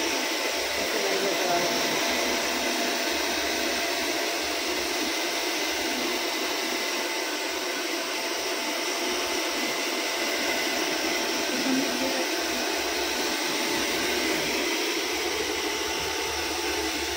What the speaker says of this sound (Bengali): এটা ফুল ড্রায়ার দিয়ে দিচ্ছি